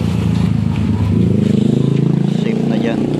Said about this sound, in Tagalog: Ito, nakagaraya na yung motor.